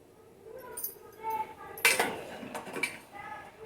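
A spoon stirs sugar syrup with cardamom in a pan while gulab jamun is being made, giving several light metallic clinks and scrapes at an irregular rhythm, close by and fairly quiet.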